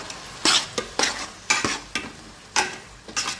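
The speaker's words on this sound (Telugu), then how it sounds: "ఎగ్ చూడండి మనకి రెండు పక్కలు ఎంత బాగా వేగినాయో" Eggs fry in a pan, heard as about eight short bursts of sizzling and spatula scraping at an uneven rhythm, close by and fairly loud, with quieter gaps between them and no speech.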